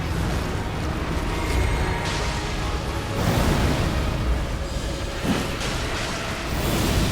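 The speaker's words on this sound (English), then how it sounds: "And explosion." Elden Ring boss fight explosion, a dense, roaring burst of noise that swells and rumbles for several seconds with layered crackles and booms, loud and without talk.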